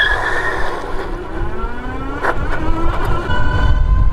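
A 60V all-wheel-drive Furious Reaper e-bike pulls up a very steep hill from a standing start, its motor whine climbing steadily in pitch over constant wind rush and rolling noise.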